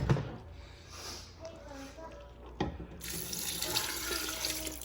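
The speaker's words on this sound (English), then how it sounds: "We're gonna add in our stock." Stock pours into a jambalaya pot that has been on low heat, a thin trickling, splashing stream that swells into a steadier rush toward the end.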